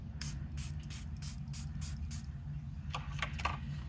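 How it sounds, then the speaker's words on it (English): Several short hissing bursts from a spray bottle spraying paint onto paper in a quick irregular rhythm over a low steady hum, with a few faint clicks near the end. "I'm gonna spray it again and kind of goosh it around a little bit"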